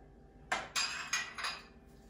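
Porcelain cups clink against each other in a kitchen cupboard, four quick, light ceramic knocks in close succession, near and fairly quiet, with no speech.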